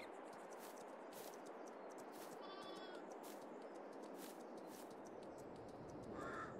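A few faint bleats from sheep at a distance in Farming Simulator 22 on an Ireland-based map, over a steady outdoor hiss, with a short higher call near the end.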